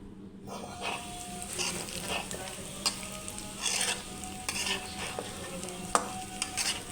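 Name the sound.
lentils frying in oil in a wok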